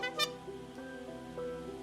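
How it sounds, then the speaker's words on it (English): A clown horn, pulled from armor during a tabletop role-playing game scene, gives one short bright honk near the start, followed by a sustained tonal musical background. "The replicant honks their horn with a solemn nod."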